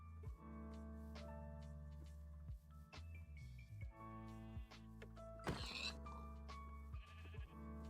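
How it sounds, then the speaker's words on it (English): A Minecraft sheep bleats a few times over steady looping background music, with clicky effects and a short burst of noise midway. "I'm not gonna kill the sheep"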